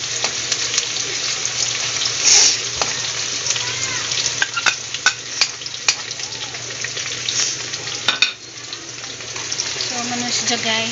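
Sliced onions sizzle and crackle in plenty of hot oil, a dense, steady frying hiss with scattered sharper pops and a few clinks, close and fairly loud throughout.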